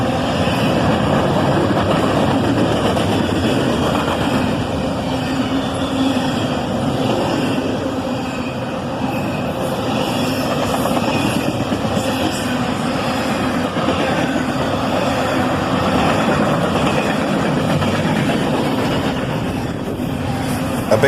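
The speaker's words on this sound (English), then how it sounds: "ACHs lead this train southbound." A southbound CSX freight train hauling double-stack containers rolls past behind a pair of ES44AH locomotives, a steady, loud, continuous rumble and rail roar holding close and constant throughout with no voices.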